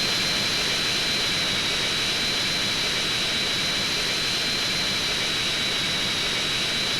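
A jet airplane engine roars in the video game GTA, a loud, steady whine and rush filling the whole stretch without talk.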